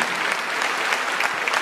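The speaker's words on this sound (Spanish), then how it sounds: "Denle un aplauso a esta mujer." Church congregation applauding during a Spanish-language evangelical service, a dense steady burst of clapping from many hands filling the space, brief and uninterrupted.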